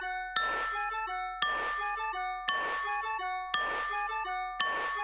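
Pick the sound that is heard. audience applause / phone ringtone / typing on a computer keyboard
phone ringtone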